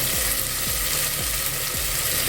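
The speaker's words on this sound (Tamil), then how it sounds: "தக்காளி கொஞ்சம் வதங்கணும்." Tomatoes sautéing in a pan for a spicy mutton bone soup give a steady broadband sizzle, with soft rhythmic low scraping strokes as the pan is stirred, close and continuous with no talking.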